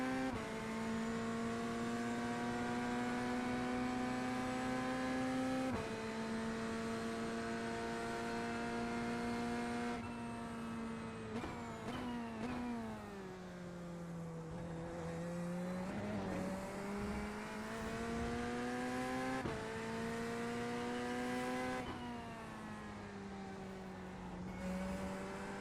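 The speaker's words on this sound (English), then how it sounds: "There's a faster class car approaching." GT3 race cars circulate on an iRacing IMSA track, with a steady close engine drone that shifts pitch through gear changes and braking, while faster-class cars approach and sweep past, and no voices are heard.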